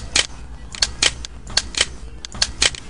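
A custom computer mouse click sound effect repeats at an irregular rhythm, about ten crisp, sharp clicks over a steady low hum, close and clear with no voices.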